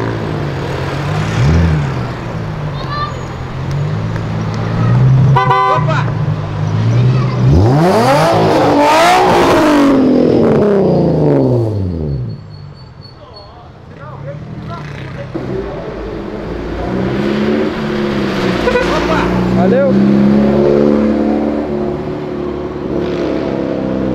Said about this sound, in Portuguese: Quase achei que ele era turbo na hora que ele começou a acelerar.